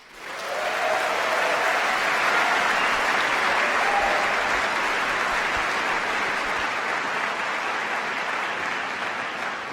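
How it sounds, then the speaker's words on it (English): Sustained applause from a large audience at a university convocation, a dense steady wash of clapping that swells in quickly and holds at full strength throughout. "Let's give her one more round of applause,"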